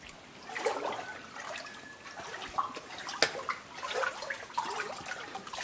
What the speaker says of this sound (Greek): Εδώ έχει το πιο πολύ νερό.